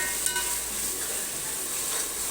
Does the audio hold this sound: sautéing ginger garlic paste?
yes